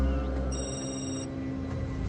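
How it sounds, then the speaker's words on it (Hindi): A phone ringtone chiming from behind bushes in a movie scene, a high electronic tone over a steady hum of background sound. "तभी उसे झाड़ियों के पीछे से किसी फोन का रिंगटोन सुनाई देता है।"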